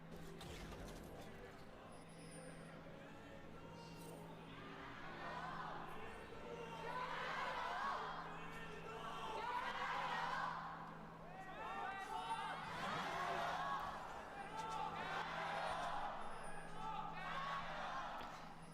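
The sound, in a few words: esports arena audience cheering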